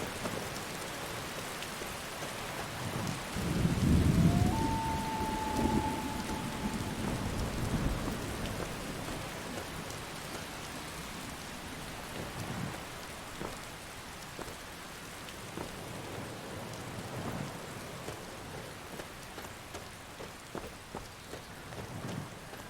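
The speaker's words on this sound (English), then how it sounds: "Probably not the best day to travel. It rained the entire time." Steady rainfall patters throughout a thunderstorm in Skyrim, with a deep rumble of thunder swelling early on and then fading back into the constant hiss of rain and scattered drips.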